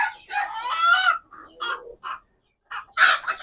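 A domestic hen calls out in loud, close squawks and clucks as she tries to get back inside to her chicks, several bursts with short pauses between them.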